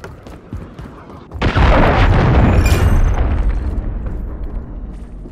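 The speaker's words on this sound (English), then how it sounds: "Hostile cruise missile incoming." An incoming cruise missile in Call of Duty detonates with a sudden heavy boom after quiet scattered noise, followed by a long loud rumbling roar that slowly fades.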